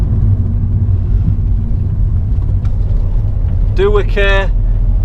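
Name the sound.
Ford Transit Connect camper van driving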